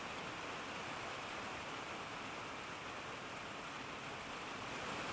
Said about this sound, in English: It is raining so loud right now.